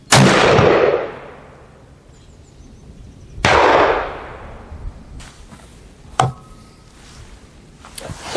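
Shots fired from an original 1861 Navy black powder revolver: two loud, sharp reports a few seconds apart, each ringing out in a long decaying echo, followed by fainter clicks and a small clank.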